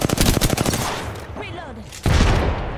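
Rapid automatic gunfire in Apex Legends, a fast close burst of shots that drops away briefly and then resumes loudly, with a faint voice mixed in.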